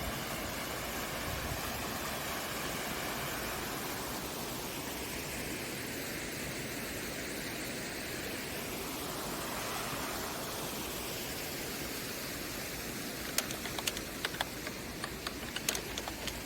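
An artificial waterfall feature in an apartment complex garden pours steadily, a dense broadband rush of falling water that stays constant and fairly near throughout, with a few faint clicks near the end.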